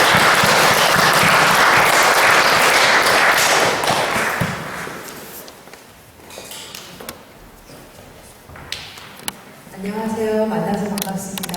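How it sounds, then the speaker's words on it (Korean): An indoor audience claps in welcome for a speaker, a loud dense burst of applause that tapers off within about five seconds, followed by scattered taps and then a voice speaking. "우리 크게 환영의 박수 한번 드리시겠습니다"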